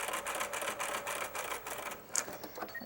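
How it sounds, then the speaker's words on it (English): Sewing machine stitching a curved seam through a quilt edge, a steady fast mechanical whir with even needle clatter running close and continuous throughout. "I'm ready to put this back under the machine, and I'll finish sewing the rest of this seam"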